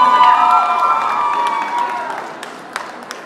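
The audience at the Miss Afrique Montréal 2017 pageant cheers and applauds, with shouting voices fading out into scattered claps and a few sharp hand smacks at the end.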